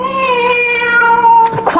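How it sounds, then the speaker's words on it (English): Cat meowing in a radio drama sound effect, one long drawn-out plaintive meow, close and loud, ending in a shorter rougher cry. "Quiet out there, Cat"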